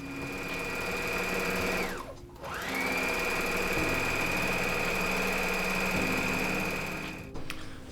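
A sewing machine runs fast and steady, stitching a straight seam on a fabric wizard hat. The whirring pauses briefly once, then resumes and stops near the end.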